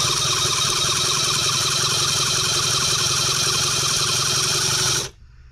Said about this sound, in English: I'm going to crank it until we see fuel come up